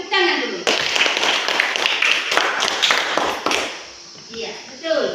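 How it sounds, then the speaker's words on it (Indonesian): Children in a classroom clap their hands together in a burst of quick, dense claps lasting a few seconds, then fading as a teacher's voice resumes. "Tepuk tangan dulu."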